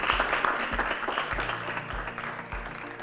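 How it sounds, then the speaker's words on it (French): Audience applause for a teenage contestant on a televised talent show, a steady wash of many hands clapping at moderate distance, with low thumping beats sounding beneath it. "Sous vos applaudissements"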